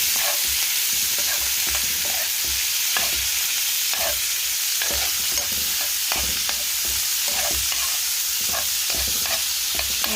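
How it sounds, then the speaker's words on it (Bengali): Shrimp frying in a pan for an Italian-style octopus and shrimp pasta, a continuous hiss of sizzling oil broken by regular scrapes and clicks of stirring, close and with no voices. "হালকা একটু ভেজে নেবো"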